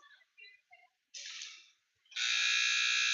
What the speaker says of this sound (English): And the buzzer rolls.